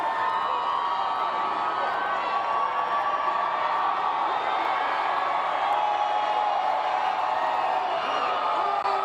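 A large outdoor crowd cheers and whoops at the Denver Nuggets championship rally in Civic Center Park, forming a constant roar of voices that holds steady throughout.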